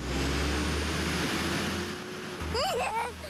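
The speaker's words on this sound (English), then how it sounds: "the revving of the trash truck engine coming down his street" A city garbage truck rumbles steadily down a residential street, its low engine drone close and continuous, with a brief rising whine near the end.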